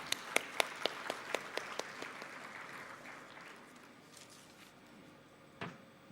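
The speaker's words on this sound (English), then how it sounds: "let us welcome Maulana M.F. Abbasi with a big round of applause." An audience at an inter-religious gathering applauds a speaker being welcomed, with a few sharp individual claps at first, then a steady wash of clapping that gradually fades.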